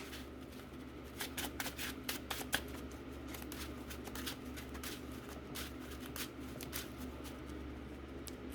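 Pokémon TCG cards from a Giratina VSTAR deck being shuffled by hand, a steady run of soft riffling clicks and flicks close up, fairly quiet with no talking over it.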